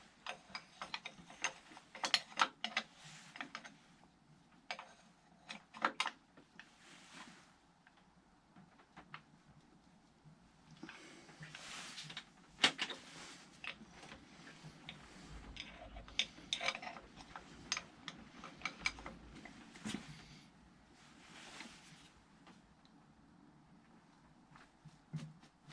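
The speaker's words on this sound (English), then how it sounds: "you're using a C-spanner. You want to loosen off your chain." A C-spanner working the chain adjuster on a Triumph Speed Triple motorcycle in a workshop, with faint, irregular metallic clicks and ratchety taps, scattered in bursts at low level.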